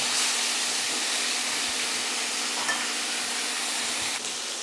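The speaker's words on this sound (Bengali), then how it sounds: "উল্টে পাল্টে মাছের মাথাটা ভাজা হয়ে গেছে" A fish head fries in oil with turmeric and salt, giving a steady, dense sizzle and hiss that holds evenly throughout with no voices.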